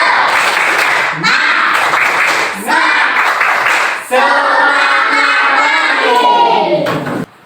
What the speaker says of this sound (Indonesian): dan lagi tepuk semangat pagi